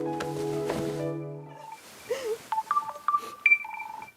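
Telephone keypad tones as a call is placed, a run of short beeps at uneven spacing after a brief stretch of low music, clear and close.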